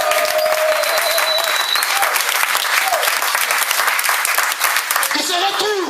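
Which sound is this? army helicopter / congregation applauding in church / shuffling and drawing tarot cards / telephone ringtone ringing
congregation applauding in church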